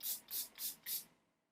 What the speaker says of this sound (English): I'm spraying with Clean Color Pro setting spray